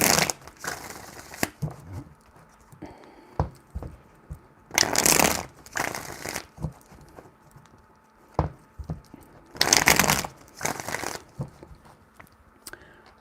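A deck of tarot cards shuffled in three bursts of rapid riffling, close and crisp, separated by quieter handling taps and soft shuffling.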